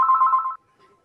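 An incoming phone call sounds as a single short electronic ring, a bright buzzing tone lasting about half a second and then cut off into silence.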